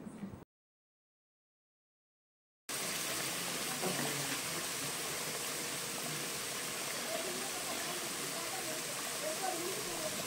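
Boiling chicken gravy being poured into a hot pan for a village-style chicken gravy, producing a steady, close, hissing sizzle and gush that continues unbroken after a brief silent gap.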